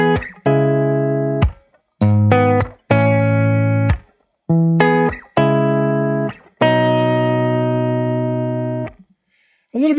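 A guitar through a Fender Deluxe Reverb amp, miked with a U87 and a Tab 57 on the cone, plays a loud phrase of clipped chords and single notes with short gaps, ending on a long held chord.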